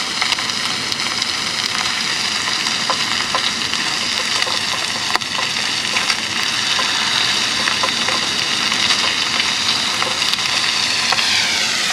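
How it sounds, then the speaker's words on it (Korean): Korean pork belly sizzling on a grill at a beach campsite, a steady close crackle and hiss with small pops that runs without a break. "삼겹살을 한번 구워볼게. 구워서 소주 한잔 하고 여기서 자도록 할게요."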